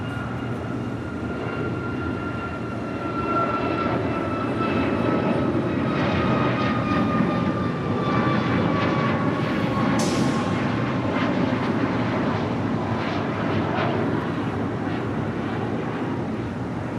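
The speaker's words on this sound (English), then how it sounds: "Next departure here on the south side, Air Canada Flight 782 heading to Toronto into 737 MAX 8" An Air Canada Boeing 737 MAX 8 bound for Toronto departs from the south side of Los Angeles International Airport, its engine roar building steadily with a rising whine, then sustained and fairly loud.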